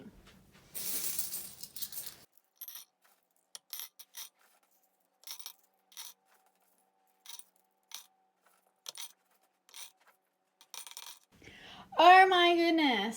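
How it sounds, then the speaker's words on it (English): Silver coins, nearly a kilo of them, clang and clink together in bright, repeated bursts of close metallic jingling with short pauses between handfuls, ending with a person's loud excited voice. "have to hear all of the like clanging of the coins"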